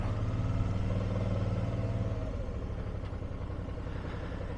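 A 2009 Suzuki V-Strom 650 fuel-injected motorcycle idles close by, with a steady low engine rumble and no talking.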